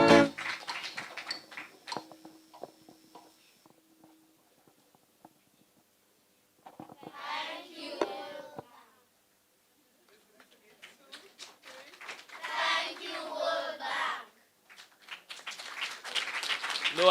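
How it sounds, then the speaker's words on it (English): An audience applauding at an official digital device hand-over ceremony, in two separate bursts of clapping with quiet gaps and speech between them. "No, I don't like that round of applause."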